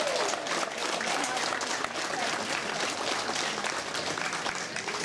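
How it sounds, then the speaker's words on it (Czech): Audience applause for Mr. Bravenec and his men's folk choir from Dolní Dunajovice, dense and continuous throughout, loud and steady without a break. "Takže určitě velký potlesk pro pana Bravence"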